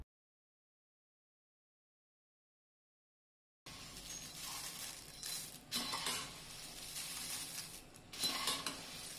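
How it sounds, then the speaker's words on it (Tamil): After a stretch of silence, puffed rice crackles and sizzles steadily as it fries in a pan, with occasional louder bursts of popping. "டூ மினிட்ஸ் நல்லா ஃப்ரை பண்ண அப்புறம் இதை மாதிரி பொறு பொறுன்னு நல்லா சவுண்டு வரும்"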